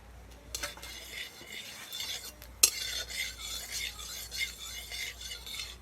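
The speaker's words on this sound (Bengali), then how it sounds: "ফোড়নটাকে কিছুক্ষণ নেড়ে নিয়েছি।" A panch phoron tempering of dried red chili and bay leaf in a little mustard oil is stirred in a pan. Soft scraping and light clinks of the utensil sit over a quiet, faint sizzle.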